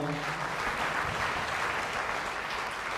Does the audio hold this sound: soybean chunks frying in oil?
no